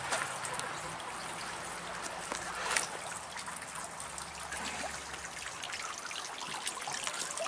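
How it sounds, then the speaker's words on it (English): Steady, soft trickling water from a small clawfoot cascading fountain, with small splashes and drips, continuous throughout, a low background murmur underneath. "Clawfoot cascading waterfall."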